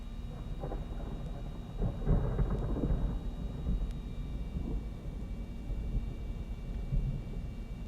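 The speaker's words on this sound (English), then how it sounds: "Oh, thunder." Thunder during a storm near Calgary, Alberta: a low, rolling rumble that swells around the middle and fades over several seconds, with a quieter second growl near the end and no talking.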